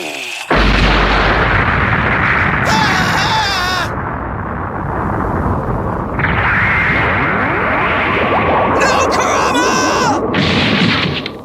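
Anime fight with bomb explosions, a dense, loud roaring blast sound sustained almost throughout, layered with whooshing and screeching effects.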